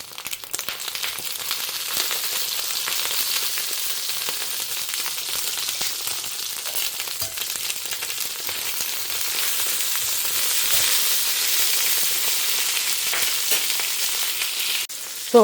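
Brinjal sizzles in a pan with salt and asafoetida while being sautéed, a continuous bright frying crackle with occasional scraping stirs, steady and close throughout.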